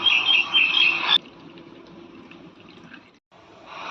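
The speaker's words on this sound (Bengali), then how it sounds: "বাটির মধ্যে এবার দুধটা ঢেলে দেবে" Milk poured into a bowl makes a bright splashing stream for about a second, then stops, leaving quiet handling noise and a brief return of sound at the end.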